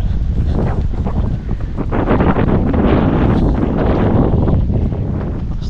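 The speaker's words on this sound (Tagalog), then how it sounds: "Lakas ng hangin." Strong wind before heavy rain roars and buffets against the microphone in loud, continuous gusts on a calamansi farm field, with faint rustling underneath.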